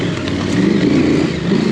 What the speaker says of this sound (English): He's rolling on a KTM 500, nice little bike.